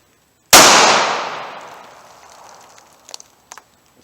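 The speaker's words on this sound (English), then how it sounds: "Let's do 6 rounds with the LCP." A single loud, close shot from a .380 Ruger LCP pocket pistol rings out and decays slowly, followed by a few faint clicks and handling noises.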